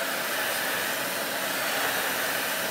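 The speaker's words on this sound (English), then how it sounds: "And then you see me ruin it with the blow dryer." A blow dryer runs at full power over a transfer on a painted board, a loud steady whooshing roar throughout with no talking.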